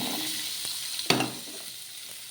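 Cucumber pieces drop into a little hot oil in a kadai, giving a soft sizzle with a couple of sharp hits and bursts of frying, close and without talk.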